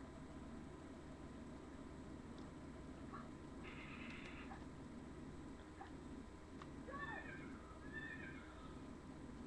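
A horse in the video game Rayman 2 neighs faintly in a few short, descending whinnies near the end, over a steady game soundtrack hum.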